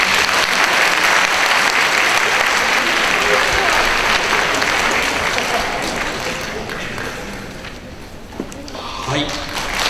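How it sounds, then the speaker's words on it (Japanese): An audience applauds during a certificate presentation at a 2012 annular solar eclipse forum in Ebina. The dense, steady clapping fills the hall for the full stretch and thins slightly toward the end. "皆さん拍手お願いします。"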